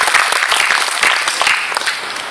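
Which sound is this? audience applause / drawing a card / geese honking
audience applause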